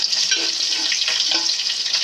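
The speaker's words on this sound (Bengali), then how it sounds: "আর তা ভালোভাবে মাছগুলিকে ভাজা করে নিচ্ছি" Large river fish frying in oil, a steady close hiss and crackle of sizzling that runs unbroken throughout, with no voices.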